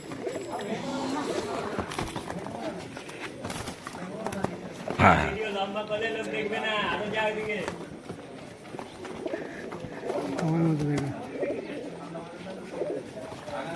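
Pigeons coo nearby at a pigeon market, a clear burst standing out midway, while people talk throughout and other bird noises flutter in the background.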